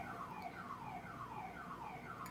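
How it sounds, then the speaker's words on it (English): A residential alarm goes off at a distance, repeating a steady falling electronic whoop in a regular cycle that sounds faint and muffled, as if indoors, with no one talking. "Oh, the alarm is going off."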